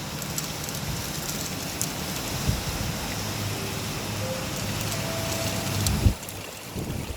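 Steady, dense heavy rain in Bang Sue, Bangkok fills the whole stretch, a continuous broadband hiss with occasional louder drops and a faint low rumble underneath.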